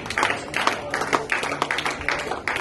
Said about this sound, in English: Let's give God a clap for him as our speaker comes.